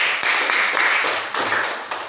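A classroom of students applauds a student group after its presentation, a dense burst of many hands clapping together, loud and steady before tapering off.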